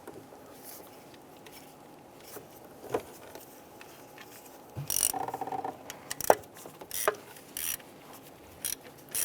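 A ratchet snugs down an ignition coil bolt on a 2002-2008 Dodge RAM, with soft close-up clicking in short quiet bursts, a few louder rattling strokes near the middle, and no talking.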